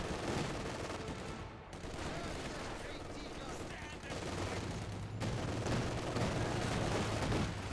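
Dense, continuous gunfire and rifle shots from a Company of Heroes 2 battle, including a captured MG42 machine gun, sit under heavy battlefield rumble with distant explosions, while someone talks over it.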